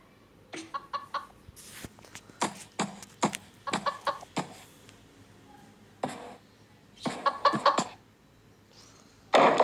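A video-game chicken clucks in short, irregular bursts, fairly close and clear, with brief pauses between calls and no talking.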